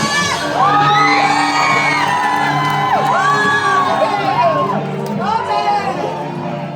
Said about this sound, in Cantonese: 再嚟尖叫聲！